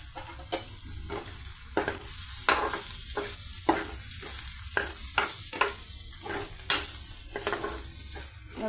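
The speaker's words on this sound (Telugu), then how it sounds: "మన పెద్దలిపాయ పీసెస్ చక్కగా ఈ విధంగా ఫ్రై అయ్యాయండి" Onion pieces and red chili powder fry in a hot pan, a continuous loud sizzle broken by regular scraping spoon strokes stirring roughly every half second, close up with no talking.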